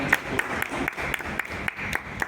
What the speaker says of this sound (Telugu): మా ముగ్గురు మహారాజులకు మరొకసారి గట్టిగా చప్పట్లు కొట్టి